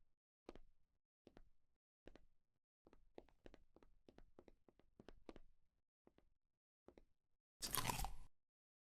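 Crunching in a horror video game, a steady series of sharp crunchy taps like steps on brittle debris, ending in a loud burst of noise.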